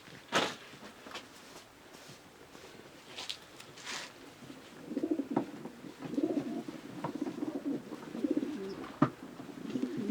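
A breeding pigeon of the Meulemans De Klak Janssen line, an original cock bird from Roger Linsmont, coos in a low rolling series after a few faint knocks and rustles, close and fairly quiet.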